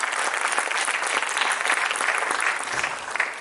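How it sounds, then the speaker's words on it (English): An audience at a live music show claps in steady, dense applause for a few seconds, a full crowd heard fairly close with no voices standing out. "A big round of applause."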